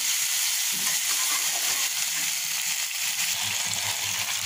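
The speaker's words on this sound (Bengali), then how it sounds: "মাছ কষিয়ে নিচ্ছি" Singi fish is sautéed in a pan, giving a loud, constant sizzle and hiss throughout, with occasional soft stirring scrapes and no talk.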